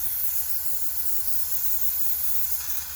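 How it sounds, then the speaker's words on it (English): Continuous steady hiss of an airbrush spraying sleeper grime paint over model railway track, close and even for the whole stretch with no talking. "I've got some sleeper grime already in the airbrush, and I'm just literally going to"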